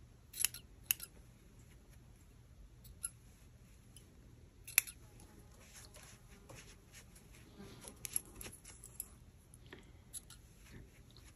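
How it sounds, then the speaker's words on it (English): Quiet, sharp snips of scissors trimming a yarn pom-pom come in scattered bursts, several quick cuts close by with pauses between them. "just take your scissors and just trim up any stragglers that you have"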